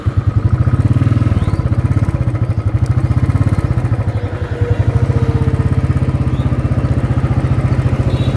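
A Benelli TRK motorcycle engine running close by, a loud, rapid low thumping idle with a brief dip in revs midway before settling back into its steady rhythmic putter.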